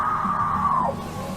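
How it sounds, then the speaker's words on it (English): A woman screams intensely in a shopping area, a single loud sustained high cry that wavers and falls off at the end, with murmuring onlookers beneath. "She lets out yet another scream,"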